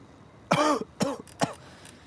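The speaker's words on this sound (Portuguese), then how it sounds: "Imediatamente você vai tossir" Three short, harsh coughs from a dog in quick succession, close and fairly loud, with quiet background between them.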